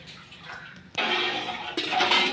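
Water poured from a vessel into a pot of kavalai (sardine) fish curry on the stove, a soft lead-in followed by a strong gushing splash that briefly surges again, close and without talk.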